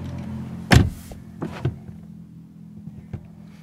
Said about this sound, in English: If I close the door, check it out.